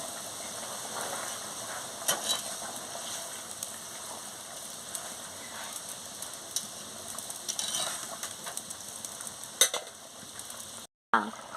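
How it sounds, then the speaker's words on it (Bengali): Soybean bori curry with potatoes bubbling in a pot, a steady close simmering hiss with faint crackles and occasional clinks, no voices, cutting briefly to silence near the end. "দিয়ে ভালো করে ফুটিয়ে নিচ্ছি"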